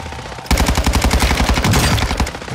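Rapid automatic gunfire in the DMZ mode on Ashika Island, a loud, close burst of shots that starts suddenly and runs steadily to the end.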